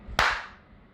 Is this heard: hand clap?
yes